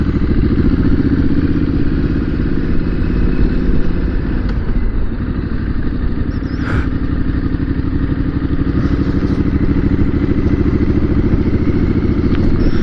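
A heavy CCM motorcycle rumbles steadily as it is ridden, its engine note loud and continuous throughout with some clatter and road noise, no voices.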